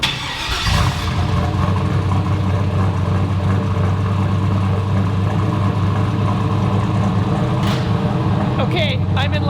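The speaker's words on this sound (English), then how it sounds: "I love the motor rumble, but I love the exhaust too." A car with a loud aftermarket exhaust cranks and fires up, then settles into a deep, steady burbling idle that stays loud and close throughout.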